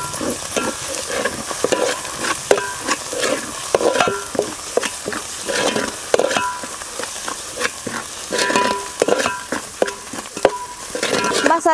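Ground spice masala paste roasts and stirs in oil in a pan over a wood-fired stove, a steady sizzle of frying with repeated scraping stir strokes, loud and close, with no talking.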